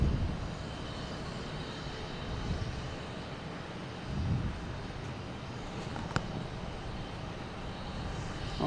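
A Qatar Airways airliner comes in to land over Winthrop at Boston Logan Airport, its engines a steady, broad rumbling roar heard from a distance with no one speaking.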